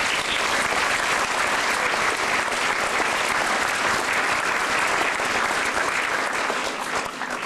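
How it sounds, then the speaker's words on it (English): A roomful of people gives themselves a round of applause at a wish-campaign gathering in Toronto, thick even clapping sustained at a steady level with no clear talk over it. "let's give yourselves a round of applause"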